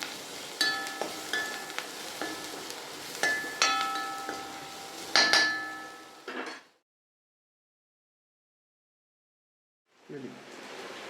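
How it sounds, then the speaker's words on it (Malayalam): Ginger, green chili, curry leaves, garlic and onion sautéing with a little rock salt in a pan, a steady sizzle broken by sharp clinks and scrapes of stirring, then a few seconds of silence before the frying resumes. "ഇഞ്ചി, പച്ചമുളക്, വേപ്പില, വെളുത്തുള്ളി, സവാള ഇതൊക്കെ അങ്ങോട്ട് ചേർത്തിട്ട് വഴറ്റും"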